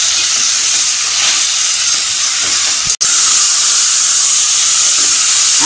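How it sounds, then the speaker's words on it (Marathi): Raw jackfruit pieces in a Malvani-style bhaji sauté in a pan, giving a steady, close sizzling hiss that runs throughout, with one brief dropout just before the three-second mark. "हे सुद्धा आपण व्यवस्थित असं नीट थोडं परतून घेऊ."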